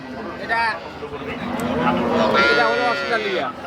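Cow lowing at a cattle market for dairy cows, a long drawn-out moo rising loud and close over crowd chatter and voices.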